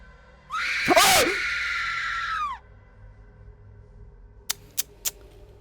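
A loud scream rings out inside a cult-like basement in the horror video game Mother's Eye, lasting about two seconds, followed by a few sharp clicks.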